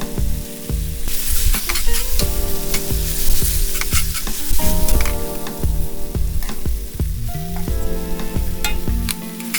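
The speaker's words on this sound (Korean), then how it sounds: "파스타 소스를 넣고 잘 볶아주세요" Vegan pasta sauce stir-fried in a pan with pasta water, loud and close, with a continuous sizzle and frequent clattering stirs and utensil scrapes throughout.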